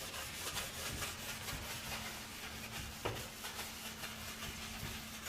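Primer is rubbed onto a mantle in steady, close scrubbing strokes, a continuous soft rasp with faint hum beneath and no talking.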